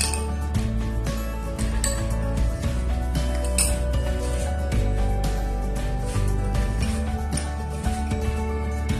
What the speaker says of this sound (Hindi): अब 1 ग्लास मिल्क में 2 to 3 आइस क्यूब हम ले लेते हैं।